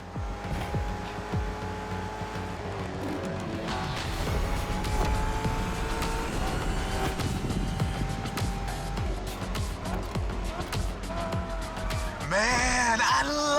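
A muscle car engine roars in The Crew Motorfest racing game, a continuous loud rumble with revving surges and gear changes, rising in pitch near the end, under background music.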